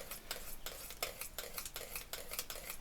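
Repeated scraping strokes of a utensil against a pot of cream being cooked, steady rhythmic stirring at close range with no voices.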